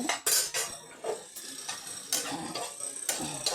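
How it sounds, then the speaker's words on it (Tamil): Pieces of dry ginger are dry-roasted in a pan, giving a series of sharp close scraping and clinking strokes from a spoon against metal, irregular and fairly loud with short gaps between. "நல்லா ஃப்ரை சும்மா அப்படியே சூடு பட வறுத்து எடுத்துடலாம்"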